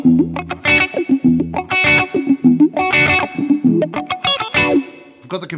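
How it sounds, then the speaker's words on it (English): Electric guitar played through a Leo Nocentelli Cry Baby Mardi Gras wah pedal, loud and close, with choppy chord stabs and single-note phrases sweeping open and shut in a funky, rhythmic pattern, alone without talk. "And this is the wah."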